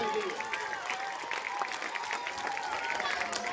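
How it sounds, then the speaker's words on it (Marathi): Students clap with raised hands at an award ceremony honouring meritorious students, producing a dense, sustained crackle of applause with a voice audible through it. "हात वर करून टाळी झाली पाहिजे"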